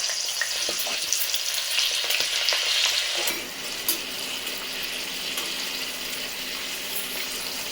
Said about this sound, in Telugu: నూనె వేడెక్కింది. ఇప్పుడు చిక్కుడుకాయలు వేసుకుని లైట్గా వేపుకుందాం.